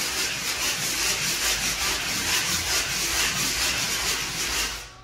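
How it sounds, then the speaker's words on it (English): A painted wall, marked by furniture, is lightly sanded by hand, giving close, rhythmic rubbing strokes in quick repeated passes that fade out at the end. "And so I'm lightly sanding."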